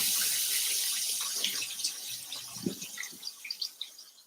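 Water from a kitchen tap runs steadily over peeled onions being rinsed, a close splashing stream with small irregular drips and clatters toward the end.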